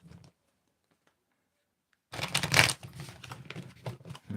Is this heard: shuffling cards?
yes